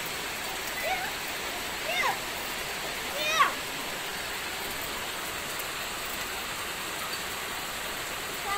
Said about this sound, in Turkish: Yağmur geliyor, yağmur yağıyor. Dolu yağıyor.